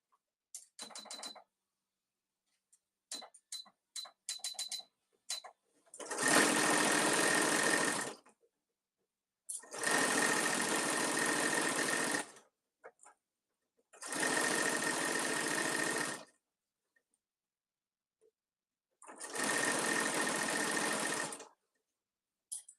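A sewing machine stitching a boxy fabric bag runs in four steady whirring bursts of a few seconds each, close and loud, with quiet pauses and a few small clicks and handling noises between runs; no talking.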